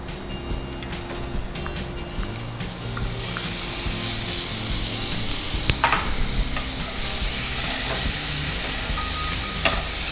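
Tomatoes sizzle and fry in a hot pan for a momo curry, a steady hiss with occasional stirring scrapes throughout and no talking.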